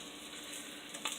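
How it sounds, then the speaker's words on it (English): Keto French toast frying in a pan gives a steady, close hiss of sizzling, with a couple of faint pops near the end. "we're going to give those like a little even, some frying time"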